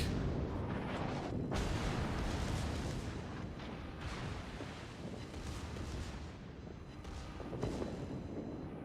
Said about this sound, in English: Having a little bit of a secondary gun duel here with the Republik.